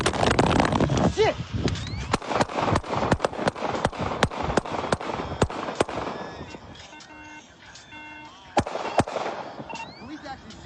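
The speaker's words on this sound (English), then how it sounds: "Police actually shooting." Police gunfire rings out as a rapid series of sharp, loud shots in irregular bursts, several close together, then scattered single cracks as the volley tapers off, with a voice heard shouting nearby.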